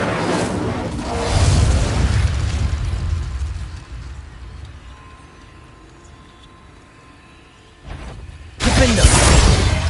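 A fiery whoosh and burst from an Incendio spell in Hogwarts Legacy flares loudly, fades to a low rumble, then a second sharp blast erupts near the end.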